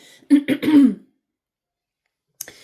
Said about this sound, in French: moi j'ai envie de tousser